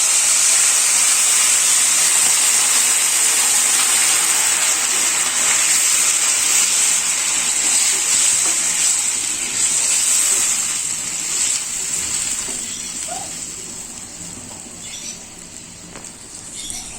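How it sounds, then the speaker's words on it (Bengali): Two cups of hot water poured into a pan of fried rice, potatoes and dal send up a loud, steady steam hiss that holds for many seconds, then slowly softens and fades toward the end. "এখন আমি জল দিয়ে দিব।"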